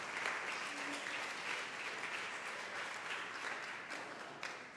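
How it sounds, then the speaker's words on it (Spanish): A church congregation applauds in a continuous, even wash of clapping that holds for several seconds at moderate distance, with a faint voice briefly underneath. "Dele un aplauso al Señor por su santa palabra."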